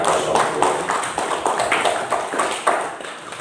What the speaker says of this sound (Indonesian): Sekali lagi saya minta aplaus dan apresiasi untuk Gapotan Pelosok Makmur.